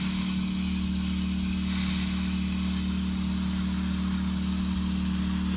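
A hose runs wide open at full flow off an off-grid water supply, giving a loud, steady spraying hiss with an underlying low hum that continues unbroken.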